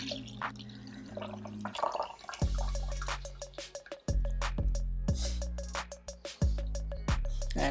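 Juice dripping from a Kuvings Auto 6 cold press juicer, a run of close, rapid drips and droplets plinking into liquid in an irregular rhythm.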